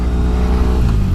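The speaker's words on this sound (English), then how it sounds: "but this is very easy to hear the exhaust note on" A custom Triumph T100 cafe racer motorcycle's exhaust note, loud and close: a steady, deep rumbling idle-to-low-rev drone with slight pulsing throughout, no talk.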